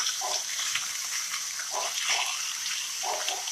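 Chicken pieces sizzle as they brown in a pot for stew, a steady bright hiss of frying with faint crackles, close and continuous, with no talking.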